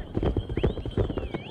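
Horse hooves clip-clop in a quick, rhythmic run at a horse race in mainland China, close and loud, with a thin whinny-like tone drifting above.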